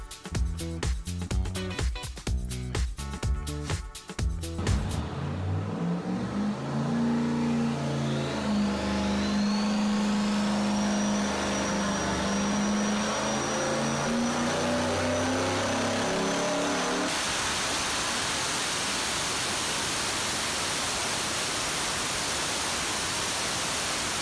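An LS engine fitted with an aftermarket turbo is tested, its exhaust pulses rapid for a few seconds before rising into a loud sustained revving whine, then giving way to a broad steady rush of air, no talking.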